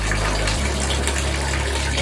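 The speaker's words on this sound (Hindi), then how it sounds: "जब इधर से इस तरह पानी गिरना चालू हो जाएगा" Water pours steadily from the tap of an instant electric water heater, a constant loud gushing with a low hum underneath, heard alone.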